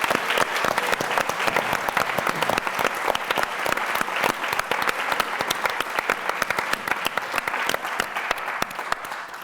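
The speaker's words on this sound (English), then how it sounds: "Give him a massive round of applause." A large audience at a masterclass with a magician breaks into loud, sustained applause, dense clapping that stays at full strength for the whole stretch.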